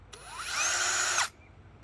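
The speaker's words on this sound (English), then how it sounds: "take a bigger drill" A power drill with a larger bit widens an existing 1/8 inch hole during a switch repair, giving one close, loud whirring burst of about a second with a rising whine at the start and a sharp stop, and no talking.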